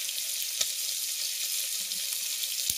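Freshly caught pond fish fry in a pan, a steady even sizzle that runs throughout, broken by a couple of brief sharp clicks, with no talking.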